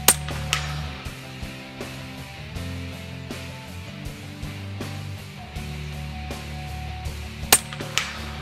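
Huben K1 .22 airgun firing cast pellets at a 70-meter range: a sharp report at the start and another near the end, set against a steady low mechanical hum.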